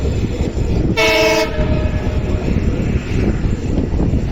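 A passenger special train from Bagalkot to Hubballi, heard from on board near Annigeri, sounds a loud half-second horn blast over the constant roar and rumble of the moving carriages.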